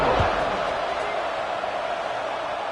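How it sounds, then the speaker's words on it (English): A college football stadium crowd at a Rice at Houston game buzzing after a touchdown, a steady broad roar of many voices with a brief thump near the start, under a commentator's speech. "this crowd is buzzing after that last score"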